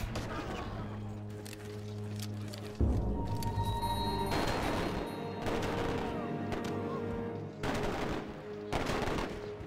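Cannon blasts and gunfire in the Civilization V Brave New World Civil War scenario, dense bursts of shots and booms repeating through the clip alongside a steady game music bed.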